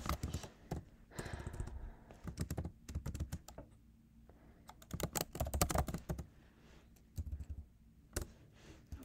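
Typing JavaScript code on a computer keyboard, with clusters of quick key clicks separated by short pauses, close and clear in a quiet room with no talking.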